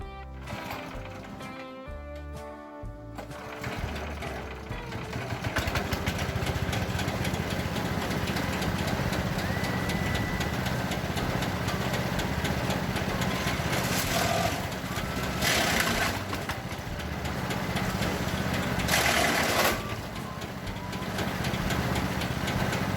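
A date palm stalk chopping machine runs with a steady, loud engine drone and mechanical clatter. The engine stutters and surges briefly now and then, after a sputtering start.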